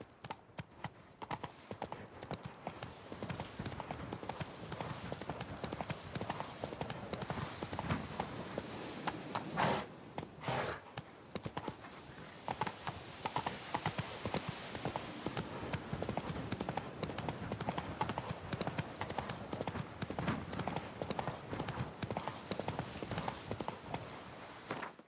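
Roach, a horse in The Witcher 3, trots with rapid, steady hoof clip-clops that run nonstop over a soft game ambience, fairly quiet and close.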